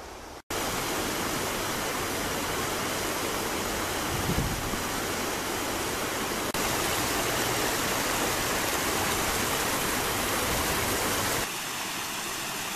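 A springtime waterfall with icicles feeds a filled pond, a steady loud broadband rush of falling water that runs unbroken throughout, close by.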